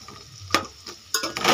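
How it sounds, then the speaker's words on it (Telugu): Onions frying in oil with curry leaves, turmeric and salt sizzle softly in a pan, broken by a couple of sharp stirring scrapes and rising crackle toward the end, close with no voices. "ఉప్పు వేయడం వల్ల వెంటనే వేగిపోతాయి ఉల్లిపాయలు"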